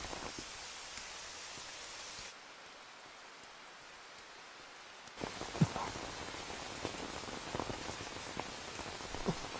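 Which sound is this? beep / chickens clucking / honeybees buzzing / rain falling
rain falling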